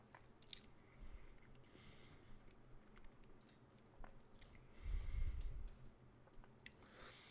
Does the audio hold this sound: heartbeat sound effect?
no